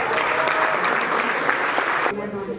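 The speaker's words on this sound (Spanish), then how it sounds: "Otro abrazo y otro aplauso" Applause from an audience at a medal award ceremony, sustained and dense for about two seconds before thinning out abruptly near the end.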